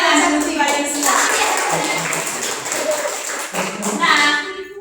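A class of children clapping together, a dense, lively burst of many small hands applauding at once, continuing for several seconds with scattered voices mixed in.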